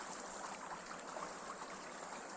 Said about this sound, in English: sound of the waves, very nice.